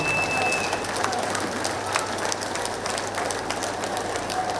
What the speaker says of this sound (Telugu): ఒకసారి మనందరూ గురువు గారైన బ్రహ్మర్షి పితామహ పత్రిజీ గారికి గట్టిగా క్లాస్ కొడదాం మనందరం కూడా